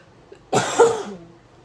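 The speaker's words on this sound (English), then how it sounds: "Oh, my bad about the cough." A single close, harsh cough bursts out after a short silence, followed by a brief throaty rasp that fades quickly.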